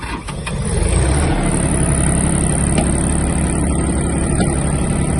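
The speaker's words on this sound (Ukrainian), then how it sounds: "Заведемо даний трактор." A Mitsubishi GS-250 mini tractor's small diesel engine cranks and catches after glow plug preheating, then settles into a steady, loud idle running close by.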